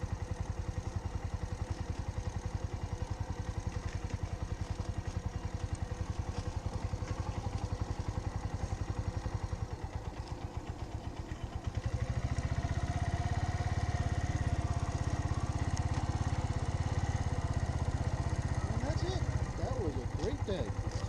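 A motorcycle engine runs steadily through a first riding lesson around orange cones, a continuous mid-level drone that drops slightly and then returns a little louder, with voices faint underneath.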